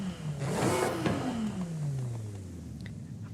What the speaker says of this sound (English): I kind of don't like that turbo sound on this car